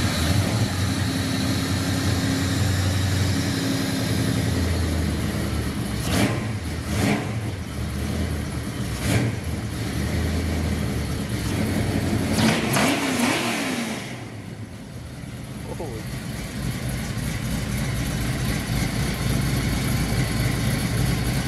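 A modified, non-stock Ford Mustang in a warehouse, its engine running loud and close with a steady rumble, several sharp revs in the middle, then settling back to a throaty idle.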